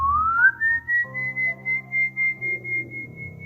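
A long, eerie whistle rises and then holds a steady high tone, pulsing in even beats over a low drone, like the Silbón spirit of legend.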